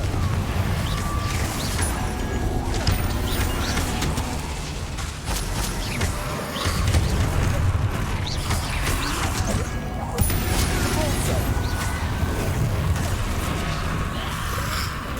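Fiery Confringo spell blasts from Hogwarts Legacy combat, a steady, dense barrage of crashes and booms that runs the whole stretch amid loud battle noise, with voices and gasps mixed in.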